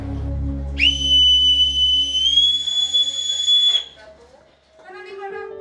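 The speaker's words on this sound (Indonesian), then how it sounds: "Ditandai peluit panjang yang melengking dari anjungan kapal" A ship's whistle from the bridge gives a long, shrill blast for about three seconds, steady and piercing, then cuts off, with faint background noise around it.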